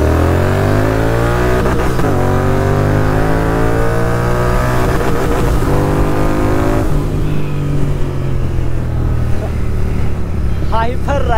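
A Royal Enfield GT650 motorcycle fitted with a full system exhaust revs and accelerates hard, rising engine tones climbing through several gear shifts, loud and close, before easing off.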